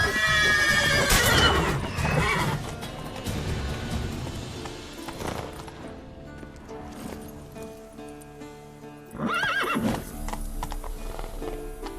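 A horse in The Witcher 3: Wild Hunt neighs loudly, then hooves clip-clop at a steady pace, with another whinny rising near the end over a faint background hum.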